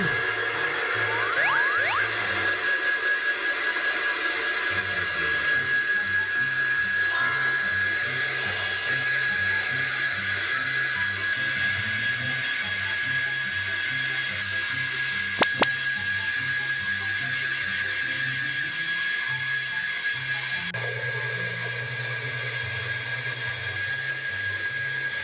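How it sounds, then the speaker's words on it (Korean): A hair dryer drying a pet after a bath whirs continuously at close range, its steady roar shifting slightly in pitch as it moves, with no talking. "물기를 대충 제거하고 드라이기로 제가 말려줄"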